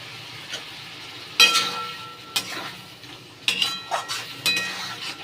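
Potatoes hit hot spiced oil with cumin in a home kitchen pan, giving a steady low sizzle broken by a few sharp metallic clinks and scrapes of a spoon against the pan, close and clear with no talking.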